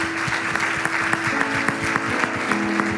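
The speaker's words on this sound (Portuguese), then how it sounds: "Vamos aplaudir a Jesus por isso" Brief round of clapping from an audience at a talk on marriage and family, steady claps over a held musical tone, with faint voices beneath.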